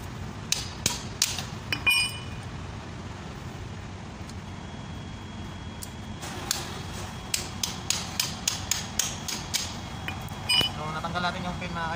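A pin is hammered out of a truck front wheel hub on an Isuzu 4HK1 Reward, with sharp metallic strikes in uneven bursts, including a quick run of rapid blows, over a steady road-noise background with voices talking.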